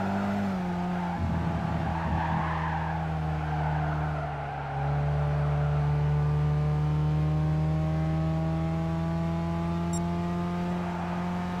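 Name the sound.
car engine revving in video game Gran Turismo 7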